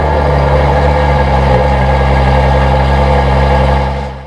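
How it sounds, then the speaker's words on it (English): A 2013 Ferrari F12 Berlinetta V12 runs with a loud, deep, steady roar close up for about four seconds before the sound tapers off. "Let's start this F12 up."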